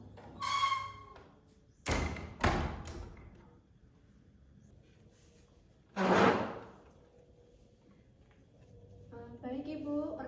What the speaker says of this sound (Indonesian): Menjaga privasi klien dengan menutup pintu.